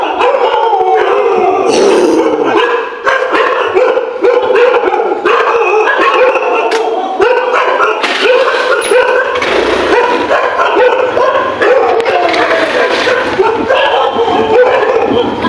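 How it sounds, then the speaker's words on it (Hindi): Street dogs bark, yip and howl continuously and loudly nearby, several animals overlapping in a dense, agitated chorus with occasional whimpers throughout. "ऐसे तगड़े डॉग्स होने चाहिए स्ट्रीट डॉग"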